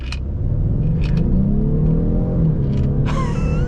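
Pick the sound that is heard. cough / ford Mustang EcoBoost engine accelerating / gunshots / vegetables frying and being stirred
ford Mustang EcoBoost engine accelerating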